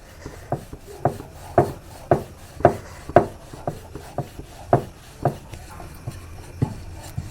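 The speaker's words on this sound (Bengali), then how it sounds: "হালকা করে গুঁড়ি দিয়ে হালকা করে আমি বেলবো, যাতে না পুরটা বেরিয়ে যায়" A rolling pin presses and rolls stuffed pea paratha dough on a board dusted with flour, giving a regular series of soft wooden thumps and rubs, about one every half second, close and clear with no talking.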